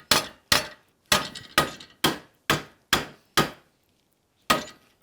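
A hammer strikes a forged metal hook nine times in a steady rhythm, each sharp ringing blow close and distinct, with a short pause before the last strike.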